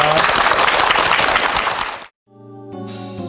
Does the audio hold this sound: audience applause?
yes